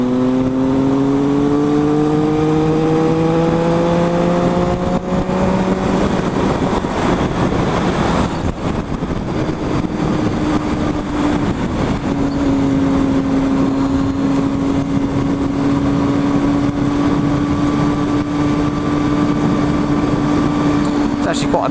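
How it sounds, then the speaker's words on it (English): A motorcycle running fast along the twisty A41 road, steady loud engine drone with rising and falling pitch through gear changes, wind roar throughout, with someone talking over it. "Actually quite a nice ride out here. The A41 becomes this quite nice twisty fast road"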